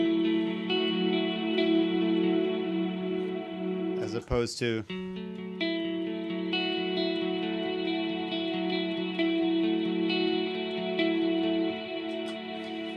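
Electric guitar notes ring through a long, washy reverb pedal, sustained tones blooming and decaying into a smooth wash, with a short spoken phrase cutting in midway.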